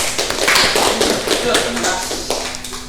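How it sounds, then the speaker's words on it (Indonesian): Classroom clapping for a presenter during a microteaching session, close and loud, a brisk patter of many hands that fades slightly toward the end, with some voices mixed in. "tepuk tangan untuk Mbak Nata"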